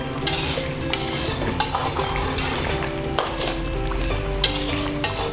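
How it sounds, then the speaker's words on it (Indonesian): Rendang being stirred in a pan, a steady scraping, bubbling sizzle with soft utensil scrapes and occasional louder clinks against the pan, continuous and close up with no talking. "Kita aduk. Takutnya di bawahnya gosong. Jadi kita aduk."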